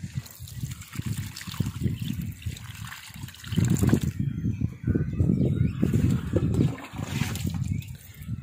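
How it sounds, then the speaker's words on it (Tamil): Water splashes and trickles unevenly onto soil and leaves, pouring in bursts with short pauses, close up, with faint birdsong behind. "தண்ணி ஊற்றிடலாம்."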